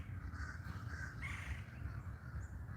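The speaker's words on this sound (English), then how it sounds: "All I hear is a bird." A crow caws repeatedly outdoors in Florida, moderately near, several harsh calls in a row over a steady low background hum.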